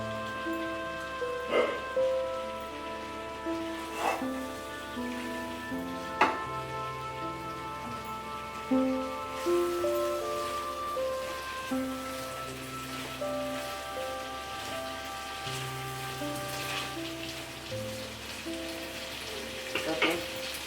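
Whole onions sizzling in a pan, a steady crackling fry like light rain throughout, with occasional sharper pops and knocks, close and fairly quiet.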